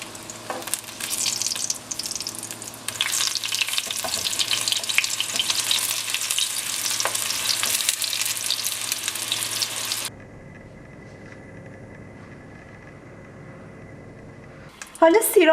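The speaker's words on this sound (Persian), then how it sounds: "حالا سیرامون رو که خورد کردیم، 3 تا سیری هم که داشتیم سرخشون میکنیم" Chopped garlic fries in oil with a busy, steady crackle for about ten seconds for an eggplant stew, then fades to a quieter low hiss, with a louder clatter at the very end and no speech.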